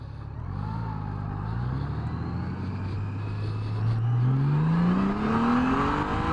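An engine climbs steadily in pitch as it spins up toward redline in first gear near 42 mph, a loud continuous rising drone with no talk over it.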